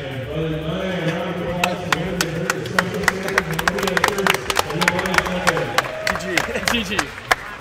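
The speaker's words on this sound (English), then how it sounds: "we want to give Harmonia and Brother Bunny a round of applause" An audience at a Smash tournament event claps for the winner and runner-up, steady applause of many hands spread throughout, heard under an announcer's voice over a PA system.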